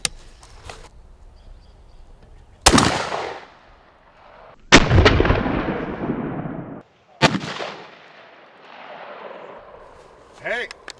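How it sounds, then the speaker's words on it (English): Shotgun fires a Kent 3-inch, 1 1/4 ounce number 5 turkey load: several sharp, loud blasts, each with a decaying echo, spaced a couple of seconds apart, with quiet gaps between. "Hey, the gun went off."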